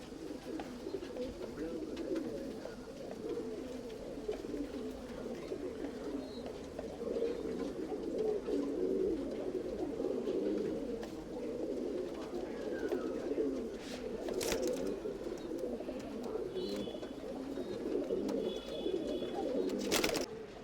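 Tumbler pigeons cooing in a loft in Bangalore, a steady murmur of many soft coos from the flock with a few higher bird calls, continuous and moderately quiet throughout.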